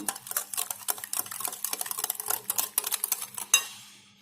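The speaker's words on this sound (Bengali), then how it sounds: "চিনিটাকে ভালো করে বিট করে নেব" Sugar is beaten briskly in a bowl, with a fast, steady run of clattering utensil strikes against the bowl that ends in one sharp knock and a fading ring.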